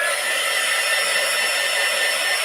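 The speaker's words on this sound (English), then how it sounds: "who has a hair dryer in their craft room?" A hair dryer running in a craft room, a steady, loud airy whoosh that holds constant throughout with no voices.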